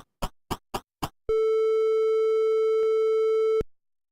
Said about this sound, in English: Back to Sid to use the phone again.